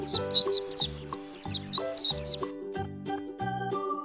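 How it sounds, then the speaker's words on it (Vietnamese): Small songbird chirps in quick repeated bursts, bright and close, over a steady low tonal backing of children's learning music, with no voices. "Con chim."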